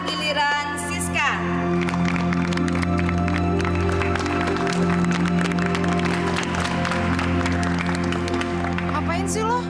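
Applause from an audience fills the whole stretch as steady, dense clapping with a few shouts and whoops, set against music and voices that carry on underneath.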